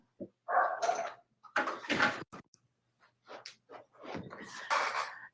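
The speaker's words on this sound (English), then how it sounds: "Sorry for the barking in the background." A dog barks and yelps in several separate bursts, fairly close, with short pauses between them.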